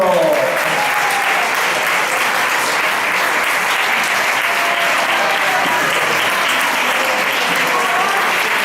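Steady, dense applause from a school gala audience at an end-of-year festival in Puerto de Sagunto fills the whole stretch, loud and continuous with a few voices mixed in.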